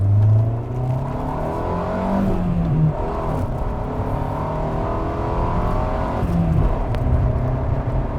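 A 1995 Honda Del Sol engine revs hard and climbs in pitch, drops back, then surges again, loud and close with a steady throaty roar.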